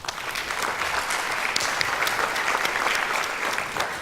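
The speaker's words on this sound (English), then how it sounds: "Just let's give them a round of applause." Conference audience at the Agile Serbia Conference applauding, a continuous, even crackle of many hands clapping across the whole stretch.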